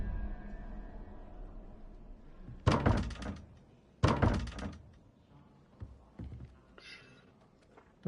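Heavy doors thudding open in the Hogwarts Legacy video game, two sharp loud impacts followed by softer knocks and creaks, with quiet game ambience between.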